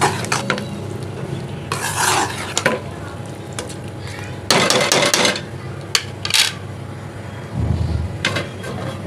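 A spoon scrapes and stirs garam masala and spices through chicken stew in a pot, with bursts of rasping strokes and metallic clinks against the pot's sides.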